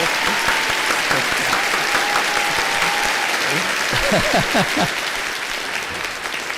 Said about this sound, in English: My soundboard only has clapping and cheering.